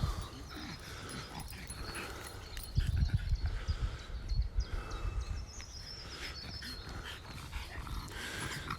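Dog panting outdoors on a riverside walk in a park, a steady rapid breathing that swells louder midway, under light background ambience with faint birds.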